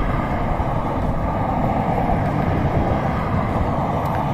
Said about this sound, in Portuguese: Muito barulho de trânsito aqui.